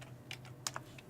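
A few quick, soft clicks from a computer keyboard, irregular keystrokes heard faintly up close over a low background hum.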